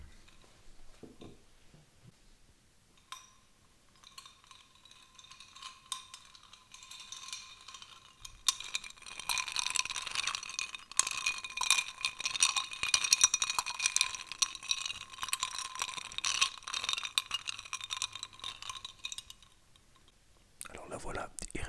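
A cranberry cocktail is stirred in a glass, a long close run of ice rattling and clinking with soft whispering near the start.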